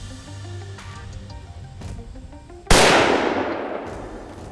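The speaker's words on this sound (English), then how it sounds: "then reach up and fire it" A single sharp, loud report from a rare antique gun cracks out near the middle, followed by a long decaying echo, after a few quieter mechanical clicks.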